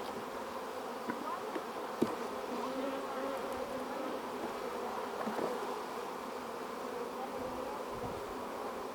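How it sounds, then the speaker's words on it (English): Bees buzzing inside an open beehive box, a dense continuous hum up close with occasional individual bees droning past, steady throughout and without talk. "there's a lot of bees in here."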